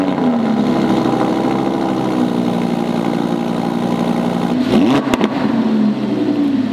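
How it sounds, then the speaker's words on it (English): A Lamborghini Huracan set to Corsa mode idles with a deep, steady, close-up engine drone, then gives a brief throttle blip with a rising and falling rev before settling back to idle. "And now I turn the car on."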